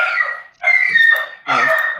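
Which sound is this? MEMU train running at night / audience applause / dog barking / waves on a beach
dog barking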